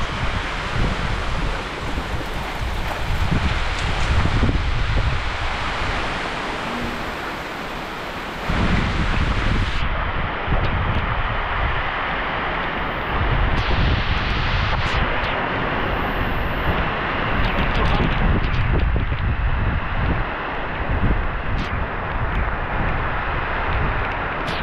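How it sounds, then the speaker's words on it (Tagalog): Wind blowing through trees on an island, a continuous rushing and rustling of leaves with gusts that swell and fade, mixed with buffeting wind noise on the microphone. "So galing yung hangin"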